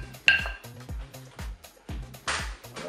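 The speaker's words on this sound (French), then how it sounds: "Je vais ajouter tous les ingrédients dans le saladier de pommes de terre. Je vais mélanger bien sûr." Potato salad ingredients being tossed in a salad bowl, with repeated clinks and scrapes of a utensil against the bowl in short bursts, close and moderately loud, with a brief bright clink near the start.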